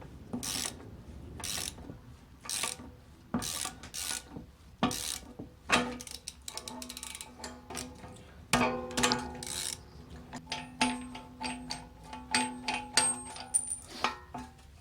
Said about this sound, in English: I'm going to use my wrench because when it bottoms out,